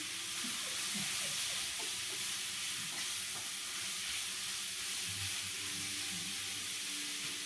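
Heavily seasoned tikka masala sautés in a pan, a dense, even sizzle that hisses continuously up close while a utensil occasionally scrapes through it, with no voices.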